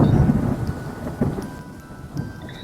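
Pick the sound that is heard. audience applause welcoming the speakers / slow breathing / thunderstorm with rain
thunderstorm with rain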